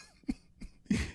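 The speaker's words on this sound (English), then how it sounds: "you drink some water to go down the completely wrong pipe, and then you just have like a 5-minute coughing fit" A person coughs after water goes down the wrong pipe, giving three sharp, close coughs in quick succession, the last one the loudest.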